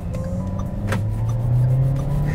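A Toyota Yaris ATIV 1.2 Premium Luxury CVT on a test drive accelerates from a standstill toward 60, its engine hum rising steadily from inside the cabin, loud and continuous.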